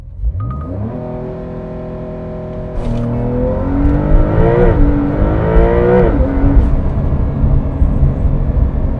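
A Porsche 911 launches hard using launch control with PSM switched off, its engine droning low at the brake, then roaring up through rising revs with clear upshifts, loud and close from inside the car.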